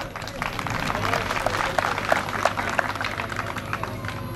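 A crowd applauds two young wrestlers at a Turkish oil wrestling (yağlı güreş) event, giving steady, dense clapping throughout with a voice audible over it.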